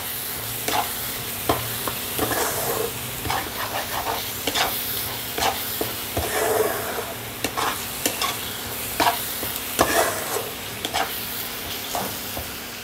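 Ground spices sautéed in a pan with a little water, giving a steady sizzle broken by repeated scraping strokes of a stirring spoon, close and clear with no talking.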